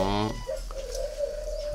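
A dove coos once, close by at its nest, a soft sustained call following a brief rustle, then quiet background.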